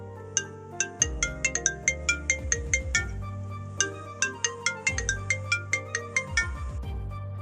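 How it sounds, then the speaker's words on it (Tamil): A phone ringtone plays an incoming call melody of quick bright plucked notes over a bouncing bass line, repeating in short phrases, clear and alone with no speech. "உங்கள் வீட்டுக்கு ஒரு ஃபோன் கால் வருது"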